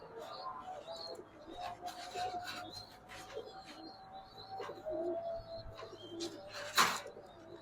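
Pigeons of the bagha breed coo softly and repeatedly at close range, their low calls scattered among faint rustling and a few brief chirps in a quiet setting.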